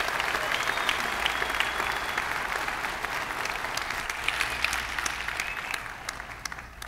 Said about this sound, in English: Can we all just give a fabulous round of applause to our terrific speakers?